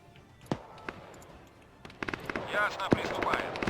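Gunfire in the Arma 3 military game: scattered sharp shots at first, then denser bursts and crackling impacts building toward the end, with voices talking over the fighting.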